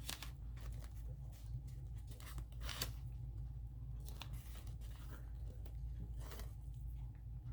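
Washi tape is handled close by in a quiet room, with soft crinkles and several sharp tearing or snipping bursts scattered across a faint low hum.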